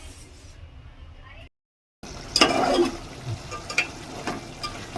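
Ground tomato paste cooking down in a pan for biryani-style tomato rice, giving a soft sizzle with scattered stirring scrapes after a brief silent gap; a voice may be faintly present.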